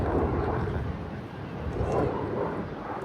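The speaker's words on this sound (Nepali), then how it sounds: "1 मिनेटमा झन्डै दुईटा जस्तो प्लेन आउँछ याद गरेर" An airplane roars overhead, a broad rumbling drone that swells and fades slightly, with wind buffeting the microphone.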